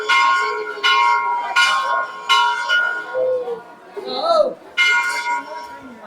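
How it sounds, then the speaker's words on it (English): Large metal temple bells ring at the entrance of a Hindu shrine in Varanasi, several resonant clangs in an uneven series with long decaying tones, loud and near, with brief voices between strikes. "There are these massive bells which are there at the entrance."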